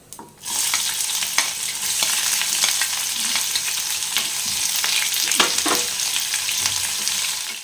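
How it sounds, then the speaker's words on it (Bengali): Chopped onion hits hot oil in a pan and sets off a loud, sudden sizzle that stays dense and steady. Scattered spatula scrapes and pops sound up close, and no one speaks. "পেঁয়াজটা দিয়ে দিচ্ছি কুচি করে রেখেছিলাম সেটা"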